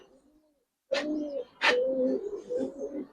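Giribaz pigeons coo in a close, low, rolling series, with a pause before two longer overlapping coos that trail into softer murmuring.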